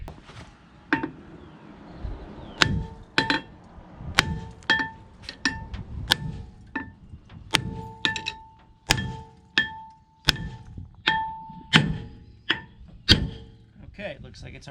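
Hammer striking the face of a Ford F150 rear brake rotor: a series of sharp metallic clanks with ringing tails, irregularly spaced and close, about twenty blows, with quieter handling noise between them.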